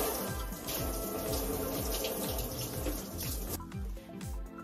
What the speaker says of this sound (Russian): Скумбрию надо хорошо промыть под проточной водой.